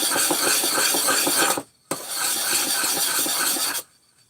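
A chipped blade is sharpened by hand, the file or stone rasping in steady, close strokes for about a second and a half, a brief pause, then another two-second run of even scraping.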